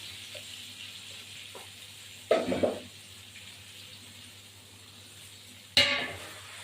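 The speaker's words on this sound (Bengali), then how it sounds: "জিরে গুঁড়ো ধনে গুঁড়ো আদা আদা গ্রেট করে রেখেছি দিয়ে দিলাম এটা হতে থাকবে" Cumin, coriander powder and grated ginger frying in oil in a pan, a low steady sizzle under a constant hum, broken by two brief louder clattering bursts of stirring, close by with no talking.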